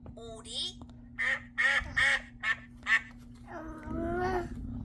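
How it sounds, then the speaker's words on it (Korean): A duck quacks about five times in a rapid, evenly spaced series, close and clear, with a voice just before and a longer vocal sound after, over a faint steady hum. "오리"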